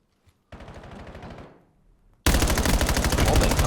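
Gunfire shot through a wall in a competitive video game match: a short burst of automatic shots fades out, then a much louder sustained stream of rapid fire starts abruptly and continues.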